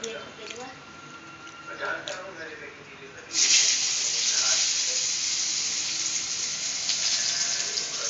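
Fish drops into hot oil and a loud, steady sizzle bursts in partway through, then carries on without a break. Quieter kitchen clatter comes before it, and a person talks during the clip.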